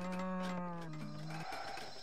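Cows moo in a real-time strategy game, a long, low, sustained bellow up close that ends abruptly, with a quieter game soundscape continuing behind it.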